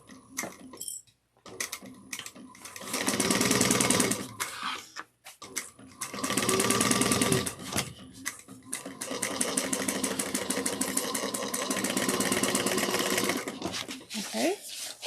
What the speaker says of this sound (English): we're just sewing the zipper trim and the lining piece at 3/8 of an inch